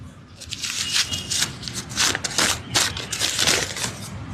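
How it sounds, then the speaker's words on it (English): A sheet of paper is crumpled by hand, making loud, close, continuous crackling and crunching in repeated bursts from start to finish. "I crumple the paper."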